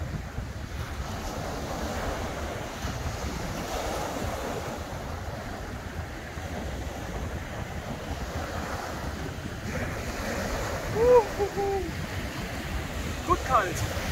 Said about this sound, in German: schauen wir mal, geile Wellen